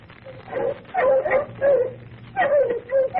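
Bloodhounds in an old radio drama whimpering and yipping in short repeated bursts, several close, loud whines in an uneven rhythm, with faint low background sound underneath.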